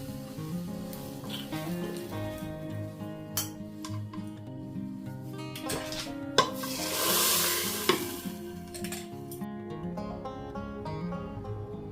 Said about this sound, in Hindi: ये सरसों तेल और घी इसमें लिया हुआ है, और लहसुन डाल दिया है मैंने